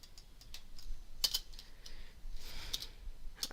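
Soft, quiet tapping on a computer keyboard, a handful of irregular keystrokes scattered over a few seconds in an otherwise hushed room.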